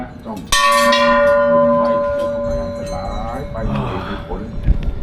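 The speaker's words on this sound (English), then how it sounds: "And look at these bells." Temple bells at the Golden Mount Temple in Bangkok are struck once, close and loud, ringing with a long sustained metallic tone that slowly decays over several seconds while people talk nearby.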